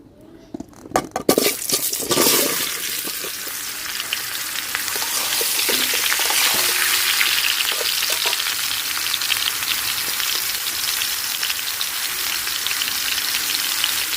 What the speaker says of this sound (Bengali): তেল গরম হয়ে গেছে এখন দিয়ে দিব জলপাই